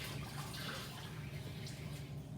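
Water is poured into sourdough starter, a continuous, soft running-liquid wash over a low hum, steady and close without any speech.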